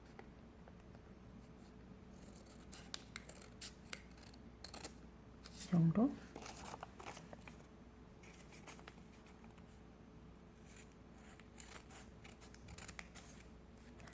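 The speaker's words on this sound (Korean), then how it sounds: "이 가운데를 중심으로 한 3분의 2 정도 가위로 자를 거예요" Scissors cut through colored origami paper in a handful of brief, quiet snips with a louder crunch of paper handling in the middle, against near silence and with a brief word spoken.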